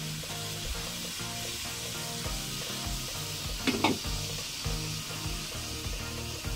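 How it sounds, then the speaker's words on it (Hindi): Boiled chana dal goes into sizzling masala in ghee, a dense steady hiss of frying with a brief burst of spattering midway and light stirring, close by with no voices. "अब इसके अंदर हमने दाल डाल देनी है जो मैंने देखिए बॉयल करके 1 पाव दाल रखी हुई थी"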